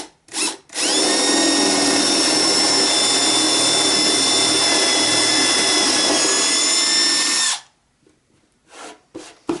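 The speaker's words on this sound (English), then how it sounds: "the drill should go straight through" A power drill bores straight down through a pre-punched hole in a board while building a Segway clone, whining loudly and steadily for about seven seconds before cutting off, followed by a few faint knocks.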